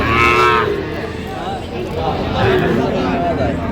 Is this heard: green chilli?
no